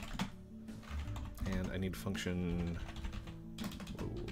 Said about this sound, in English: I love the sound of the mechanical keyboard in the background